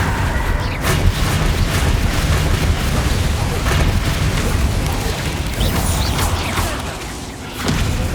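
Bombarda and Confringo spell blasts in Hogwarts Legacy, a dense continuous barrage of booming explosions and crackling impacts, loud and sustained over a busy game soundscape.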